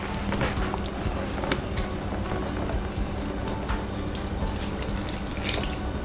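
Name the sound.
liquid poured over a cake to soak it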